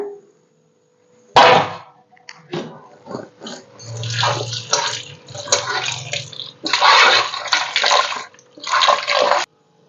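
Conch meat is washed by hand in a basin of water. Close splashing and sloshing comes in irregular bursts separated by brief pauses, with water swirling and dripping in between.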